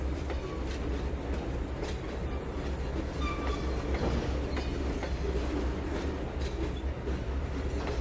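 Steady rumble and rattling clatter of a train rolling along the track in Trainz 2022, with faint brake squeals rising over the continuous low drone, no voices.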